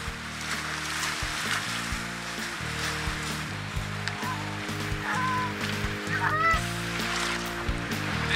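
Geese honk now and then, fairly distant, over strong wind and lapping waves during a waterfowl hunt on Lake St. Clair on a cold, windy day, with a steady low engine-like drone running throughout.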